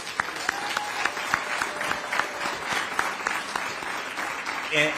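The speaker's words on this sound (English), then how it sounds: "I just want to give them a huge round of applause" At a Peabody Learning Academy graduation ceremony, the audience gives a sustained round of applause for long-serving staff, dense clapping with a few sharper claps standing out, moderately distant and continuous.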